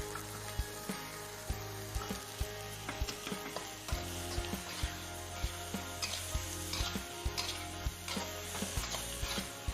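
Young galangal and Thai eggplant stir-frying with aromatics in a pan, a steady sizzle broken by regular scraping and clicking strokes of a spatula, close and moderately loud with no talking.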